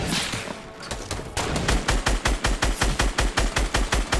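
Rapid gunfire rattles in Fortnite Battle Royale, opening with a dense burst and then settling into a steady, evenly spaced string of about sixteen loud shots.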